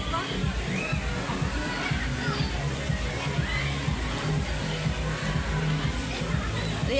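Water sloshes and splashes continuously at an outdoor picnic spot, loud and close, while people and children talk and shout over it.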